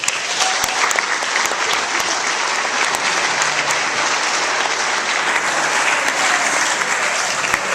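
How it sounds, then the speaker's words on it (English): Loud, sustained audience applause for college-committed players fills a meeting room, a dense wall of many hands clapping evenly from start to finish with a few sharper claps standing out. "let's give them a round of applause"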